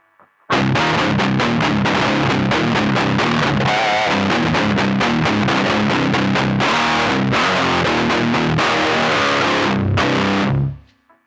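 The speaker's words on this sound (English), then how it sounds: "Let's see what it sounds like with the pedal and the amp head turned on." Loud, heavily distorted electric guitar played through a distortion pedal and amp head, a rhythmic chugging riff for about ten seconds, then cutting off abruptly.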